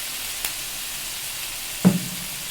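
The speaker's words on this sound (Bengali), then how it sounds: "সেই তেলেই আমি দেখো মশলা ছেড়ে দিলাম পেঁয়াজ রসুন আদা বাটা" Onion, garlic and ginger paste with spices fries in hot oil in a pan, a low, faint sizzle with a brief clink and a short louder sizzling burst near the end.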